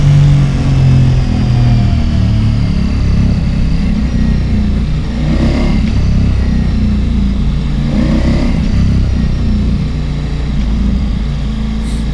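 A Ducati Pikes Peak motorcycle with a stage 1 tune revs loud and close, its engine pulling through gargling, burbling acceleration with a couple of swelling pushes over a continuous rumble.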